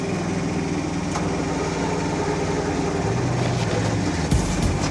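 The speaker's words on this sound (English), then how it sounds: "Start the main engine now." The main engine of an amphibious vehicle runs loud and close, a steady droning hum with a regular pulsing beat, shifting in tone near the end, with no voices heard.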